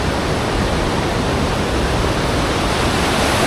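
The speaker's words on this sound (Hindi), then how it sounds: "यहाँ नीचे बिल्कुल साफ पानी बह रहा है।" Clear water rushing in a mountain stream near Kasol makes a loud, steady, unbroken roar close by, with no voices.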